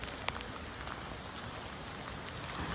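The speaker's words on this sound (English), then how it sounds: "It's not just raining." Heavy rain falling during a thunderstorm at an outdoor gathering in West Omaha, a steady loud hiss of drops on surfaces with no thunder evident.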